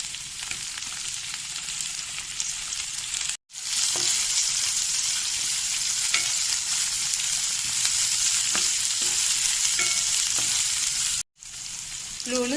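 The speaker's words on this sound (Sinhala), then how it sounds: "ලුණු සුදු ලුණු ටිකක් තෙලේ බැදෙනකොට කපාගත්තු ගෝවා ටික එකතු කරනවා." Chopped cabbage, onion, garlic and tomato fry in hot oil with a loud, steady sizzle that carries on unbroken apart from two very short cuts.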